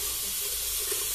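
Tap water runs steadily into a sink while a Simpson Chubby 3 badger shaving brush is rinsed of WOMO Dandy hard soap, giving a constant close hiss with no voices.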